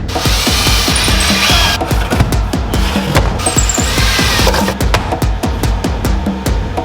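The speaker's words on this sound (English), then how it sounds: "Screw 'em and drill 'em, baby!" Loud, continuous mechanical whirring and rapid rattling of a power tool, close up, with repeated bursts as screws are driven in, no voices.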